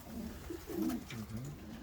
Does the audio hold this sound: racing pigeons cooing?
yes